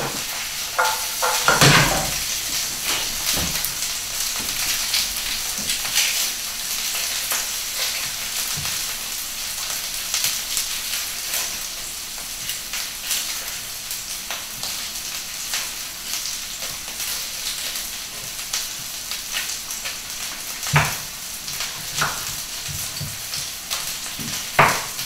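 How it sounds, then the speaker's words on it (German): Mixed vegetables with chili stir-fry in a hot pan, giving a continuous close sizzle broken by occasional scrapes and clinks of a utensil against the pan. "Ein paar Minuten anbraten"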